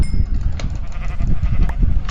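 Sheep in the video game Minecraft bleat over a dense, loud mix of animal noise, several overlapping bleats and thumps from a crowded pen of farm animals.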